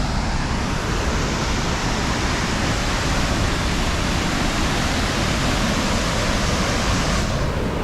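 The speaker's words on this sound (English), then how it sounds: "So here it is, the waterfall." A powerful waterfall roars in a continuous, dense wash of noise, loud and close, holding steady for several seconds with no voices.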